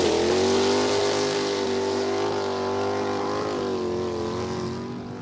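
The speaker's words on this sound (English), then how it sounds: "Bruce McLaren wants to sell racing cars to the American market. Listen to this." A classic 1967 McLaren racing car at the Knysna Simola Hillclimb screams at high revs, a loud sustained engine wail with steady harmonic tone that dips slightly and fades near the end, with no voices.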